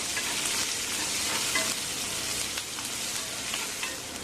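Onions sizzle and fry in a pan, a steady, fairly quiet crackling hiss with occasional stirring scrapes and no talking.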